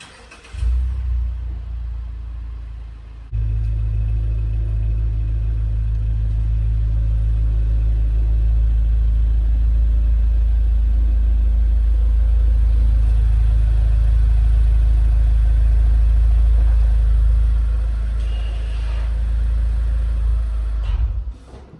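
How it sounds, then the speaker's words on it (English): A car engine runs steadily as the car is backed into a garage, a low continuous rumble that grows louder after a few seconds and holds close and strong until it cuts near the end. "So I'm gonna back the car in the garage right now."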